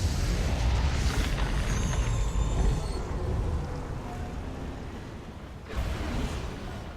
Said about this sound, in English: Ion cannon activated.